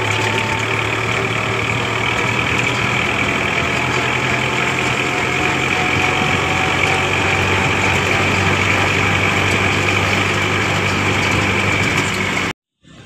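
A tractor's diesel engine idles steadily nearby, a continuous low rumble with a harmonic drone that holds at the same level throughout before cutting out abruptly near the end.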